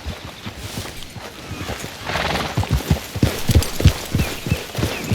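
Horse hooves clip-clop at a steady trot in Red Dead Redemption 2, the rhythmic thuds growing louder and busier midway, with a brief whinny and no talk.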